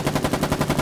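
A heavy machine gun in the war game Foxhole fires a rapid, even burst of about eight loud, close shots with no voices over it.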